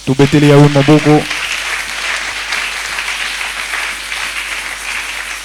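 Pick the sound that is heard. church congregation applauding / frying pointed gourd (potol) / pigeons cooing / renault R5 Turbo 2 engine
church congregation applauding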